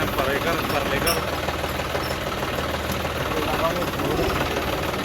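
A tractor engine runs steadily on a farm field, a continuous close, loud mechanical drone with rough knocking texture throughout, no clear speech over it.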